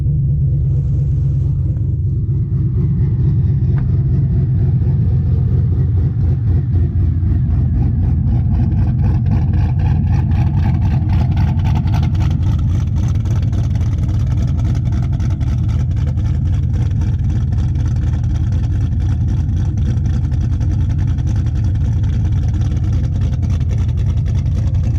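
A 107mm turbo Corvette engine idles loudly and close after a cold start, a deep, steady rumble with a throbbing pulse and a slight rise in pitch partway through.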